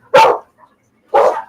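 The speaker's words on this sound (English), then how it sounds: "Damn puppies!" Puppies give two sharp, loud barks close by, about a second apart, with quiet between them and no talking.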